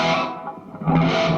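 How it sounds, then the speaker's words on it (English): A clean electric guitar chord ringing out with a reverb wash, the tone lingering and blooming as a second strum comes in. "I'm going to kick on a little bit of reverb"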